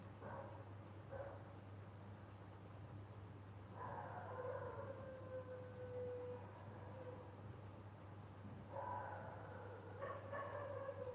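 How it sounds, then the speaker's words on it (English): Dogs bark in a residential neighbourhood at a distance, faint intermittent bursts of yapping over a constant low hum. "No, the dogs are barking."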